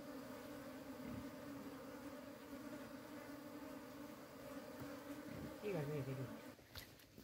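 Honey bees buzz in a steady, dense drone close by as a hive is harvested for honey, with a brief voice speaking near the end.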